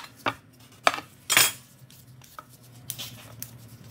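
A knife peels sweet potato and taro root, giving a few sharp scraping clicks and brief knocks, with a longer rasping scrape midway, close and fairly quiet, no voices.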